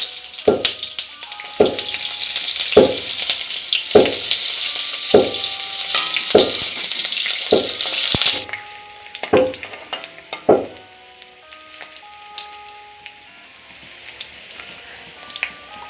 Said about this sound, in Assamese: তেজপাত, কটা পিঁয়াজখিনি দি দিছোঁ।